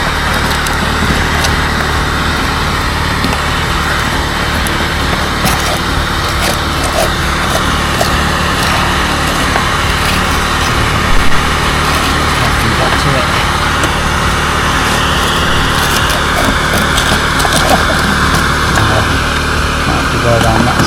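A Panther gutter vacuum runs steadily, a loud continuous motor and suction roar clearing a blocked conservatory gutter full of sludge, with talk over it.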